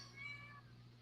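A pet cat named Lola meows in a couple of close, clear, rising cries early on, then falls quiet over a steady low hum.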